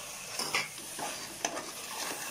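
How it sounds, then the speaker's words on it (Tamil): Ginger, garlic, mint and coriander sizzle in a pan for chicken biryani, with a steady fry under repeated scraping stirs and a few light utensil taps; no talking. "எல்லாம் போட்டு நல்லா மிக்ஸ் பண்ணிக்கலாம்."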